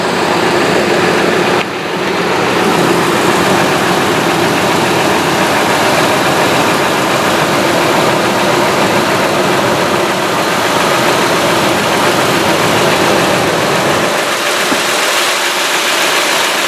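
A 1999 Ford F150 with the 5.4L Triton V8 idles steadily and loudly for the whole stretch, a constant rumbling drone with a brief dip near the start and a slight shift near the end, no voices.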